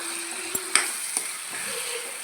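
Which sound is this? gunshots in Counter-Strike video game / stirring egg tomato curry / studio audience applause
stirring egg tomato curry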